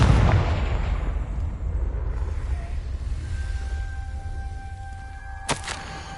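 A Confringo fire spell blast from Hogwarts Legacy: a steady roaring rush of noise that fades, then one sharp, loud burst near the end.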